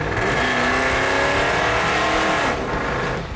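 An old Dodge truck engine revs hard and loud nearby, a sustained roaring growl that rises in pitch before easing off near the end.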